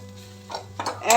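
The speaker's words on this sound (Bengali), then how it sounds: "এভাবে লো হিটে আরও মিনিট তিন চারেক নাড়াচাড়া করুন" A utensil scrapes through ridge gourd and poppy seed curry in a pan on low heat, making a few short, close scraping strokes over a steady low hum.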